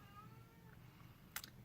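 A house cat meows to be let in, the calls faint and distant over a low background hum, with a brighter, slightly louder yowl near the end.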